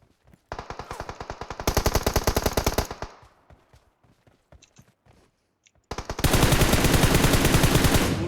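Rapid automatic gunfire from the battle-royale game PUBG Mobile, loud close bursts of rapid shots, a pause with scattered faint clicks and steps, then a sustained heavy volley.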